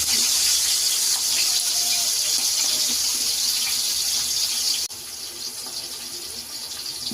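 A steady, loud sizzle of two large chopped onions dropped into about seven spoons of hot oil, hissing continuously and easing slightly partway through.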